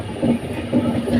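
A moving passenger train gives a continuous low rumble and hiss with faint rhythmic rolling from inside the carriage, with no talking.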